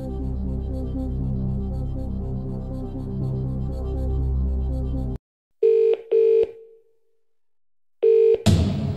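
A telephone rings in the Who Wants to Be a Millionaire video game during a phone-a-friend lifeline, two short electronic ring bursts and then a third after a pause, following a stretch of tense background music.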